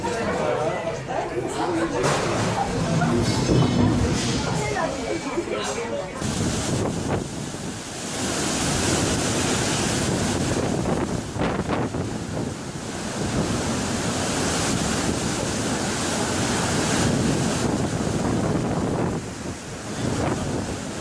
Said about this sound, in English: Huge waves hit Stina,